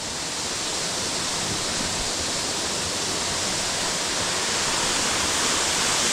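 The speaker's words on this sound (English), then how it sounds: "listen to the water cascading down" Water cascading down a shallow waterfall in Craik Forest, a constant dense roar of rushing, splashing water that stays loud and unbroken throughout, with no voices over it.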